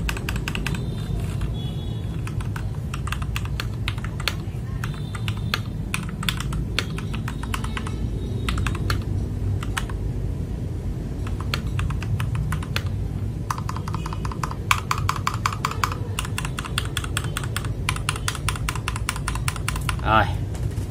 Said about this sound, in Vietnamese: Rồi, mình đã vừa lên xong cái bàn phím